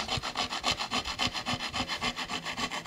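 A hand rasp is drawn back and forth across wood in steady, even strokes, each pass a close, coarse scraping rub, repeating roughly every quarter second with no voices.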